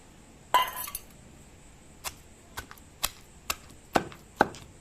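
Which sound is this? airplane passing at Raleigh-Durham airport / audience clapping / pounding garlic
pounding garlic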